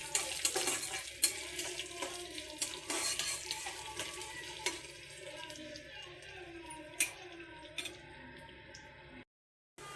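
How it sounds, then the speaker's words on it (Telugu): Dried red chillies go into a hot pan of tempering, giving a steady sizzle and crackle along with repeated stirring and scraping against the pan. The sound is close and continuous, with a brief silent gap near the end and no talking. "ఈ ఎండుమిరపకాయలు ఇప్పుడు వేస్తున్నాను."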